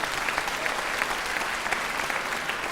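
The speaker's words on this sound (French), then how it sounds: "On peut l'applaudir." An audience claps warmly, a steady burst of applause that carries on with no voices on top.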